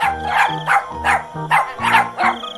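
A cartoon dog named Tuffy barks in a quick series of about six sharp, close barks in an even rhythm, with no talking over them.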